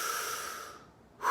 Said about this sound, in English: you're breathing in and out because you need a lot more oxygen